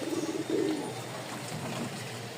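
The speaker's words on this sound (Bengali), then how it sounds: "এখানে 2 পেয়ার কবুতর আছে" Pigeons kept in pairs, including a light biscuit-coloured pair, give a couple of soft, low cooing bursts close by, then quiet background hum follows with no talk.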